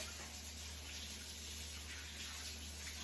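A kitchen tap runs in a steady, even stream while hands are scrubbed before making pizza dough, a continuous close hiss of water with no voices.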